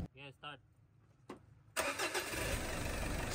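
A Mitsubishi Montero with a low-power check-engine fault is started: after brief talk and a click, the starter cranks and the engine catches, settling into a steady close idle.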